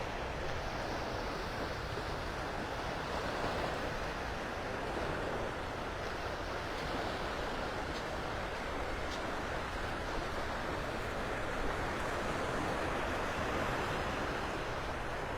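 Steady ocean surf washing onto the shore at Vanderbilt Beach in North Naples, Florida, on an early morning, a continuous broadband rush with light wind noise and no voices.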